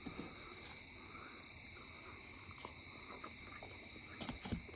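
Crickets chirp steadily in the grass at night, a faint continuous high trill with occasional soft clicks and rustles, no talking.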